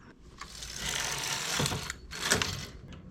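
The carriage of a knitting machine slides across the needle bed while a diamond-pattern piece is worked, producing two or three close, loud swishing, clattering passes with brief pauses between them.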